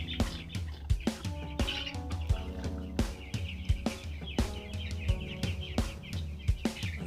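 Young broiler chickens on a small poultry farm chirp and cluck busily, with sharp knocks and clatter mixed in throughout.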